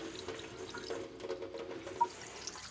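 Tap water streams softly over pieces of cured bacon being rinsed in a sink, a quiet steady trickle with a small splash near the end.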